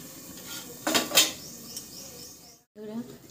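A couple of sharp metallic clanks, like a lid set onto a pan of hilsa fish cooking in mustard sauce, close by, followed by a brief quiet pause.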